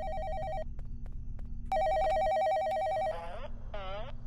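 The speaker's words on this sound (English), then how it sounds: "I do not want to answer this phone call." An electronic telephone trill rings in two bursts with a short gap between them, fairly clear and close. A low murmur sits underneath, then a couple of sliding, warbling tones follow.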